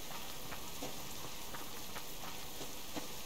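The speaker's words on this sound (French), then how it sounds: "Il pleut." Steady rain in the video game Subsistence patters continuously with faint, evenly spaced ticks and knocks beneath it, a constant wash of sound with no talking.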